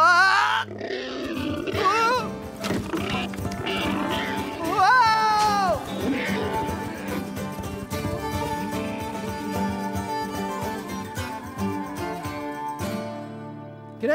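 A cartoon wild boar lets out loud, strained roars and grunting squeals over a musical score, with bursts rising and falling throughout.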